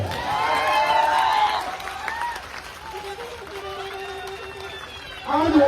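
Loud, sustained applause from a large audience at a community gathering, a dense wash of clapping that fades after a couple of seconds, with a voice speaking over the quieter stretch before the clapping swells again.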